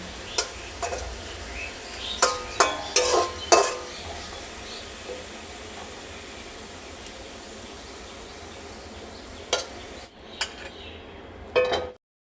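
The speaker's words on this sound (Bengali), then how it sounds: "পেঁয়াজটাকে ভালো করে ভেজে যা বেরেস্তা করে নেব" Sliced onions fry in hot oil in a pan until crisp, for chicken biryani, with a low steady sizzle under a few clustered stirring and utensil clanks near the start and near the end.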